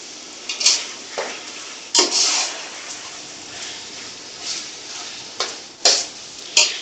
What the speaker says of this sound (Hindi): और हरी मिर्चों का भी हम मसाला भून लेंगे